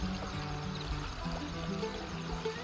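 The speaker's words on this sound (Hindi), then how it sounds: "ये पानी की आवाज़ सुन रहे हो?" Mountain water flows at night in a steady, continuous gurgling rush, heard up close and unbroken throughout.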